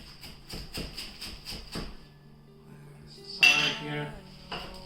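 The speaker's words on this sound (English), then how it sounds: "Let me finish chopping up my kale here." A knife chops kale rapidly on a cutting board in quick, even strokes, then pauses before a clatter of utensils and a few more cuts.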